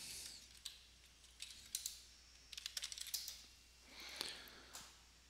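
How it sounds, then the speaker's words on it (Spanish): A username and password are tapped out on a computer keyboard in soft, sparse clusters of clicks separated by brief gaps, faint and without speech. "digitamos el usuario y la contraseña."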